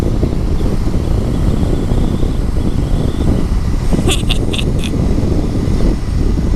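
Wind buffets the microphone outdoors on a Honda Rebel 500 ride, a loud, constant low rumble of gusting noise with a few brief high chirps partway through.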